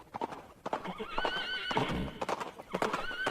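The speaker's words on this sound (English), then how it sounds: "So those are just additional horse like sound effects, I guess, and some gallops to add more to the actual track." Horse sound effects: a whinnying neigh rises over rapid clip-clop galloping hooves, loud and close, with a brief spoken word at the start.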